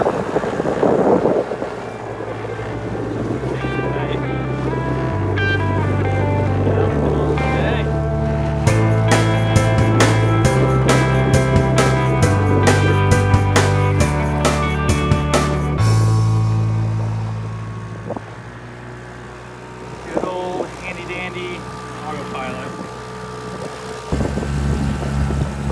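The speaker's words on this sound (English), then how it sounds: "Boats chug along great." A boat engine drones and chugs steadily on the water of Chesapeake Bay while wind buffets the microphone, continuous and fairly loud.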